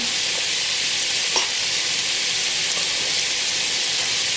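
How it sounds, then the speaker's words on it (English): Meat frying in a pan while noodles boil nearby, a steady close hissing sizzle with faint crackles and a soft clink or stir around the middle, no talking. "If you can hear me over all the sizzling."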